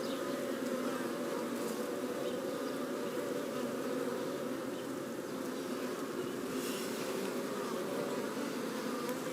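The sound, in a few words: honey bees buzzing in top bar hive during inspection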